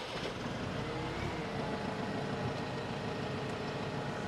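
Caterpillar DP50N1 diesel forklift, an 11,000 lb machine, running with a steady, loud low engine rumble and broadband noise that holds unchanged throughout, with no talking.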